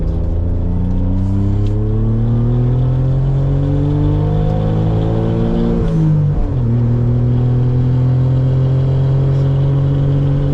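A Suzuki Cappuccino accelerating hard from inside the cabin with the windows up, loud engine drone climbing steadily in pitch, a brief dip at a gear change, then revving up again.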